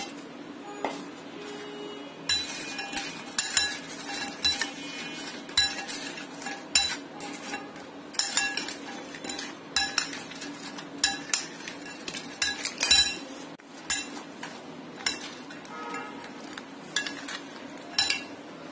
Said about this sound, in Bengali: এখন আমি ভেজে নেওয়া উইংসগুলি এই মিশ্রণের মধ্যে ঢেলে দিচ্ছি